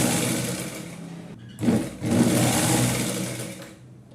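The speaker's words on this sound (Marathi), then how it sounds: "इथे मी पूर्ण पट्टी शिवून घेतलेली आहे" A sewing machine runs to stitch a strip onto a nauvari saree, a close, steady whir broken by a brief pause before it continues.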